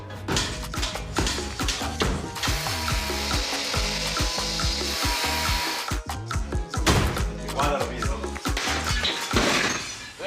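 Loud, continuous demolition noise as a back wall is knocked out: repeated banging, cracking wood and crumbling debris as tools break it apart, with brief pauses between bursts.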